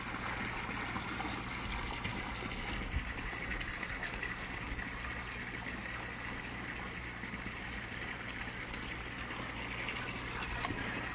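Water pours steadily into a tarp-lined crayfish pond during a water exchange, a constant close gushing wash with a faint pump-like hum beneath it.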